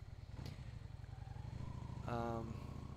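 A 1988 Honda Shadow VLX 600 motorcycle runs steadily with a low, rumbling engine drone, briefly swelling louder near the end under wind buffeting.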